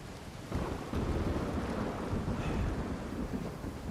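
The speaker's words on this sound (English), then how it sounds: "it's raining so hard in this game. Rain's so heavy." Heavy rain pours down in the video game Uncharted 4, a dense, steady roaring wash that swells after a quiet start and then holds loud and unbroken with no talk.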